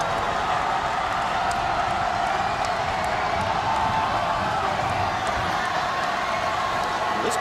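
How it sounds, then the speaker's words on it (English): Crowd noise from a college basketball game at the Smith Center, Miami against George Washington, a steady broad roar of fans with scattered cheers and whoops throughout, carrying under faint commentary. "This crowd at the Smith Center, not quite a sellout, but a good crowd."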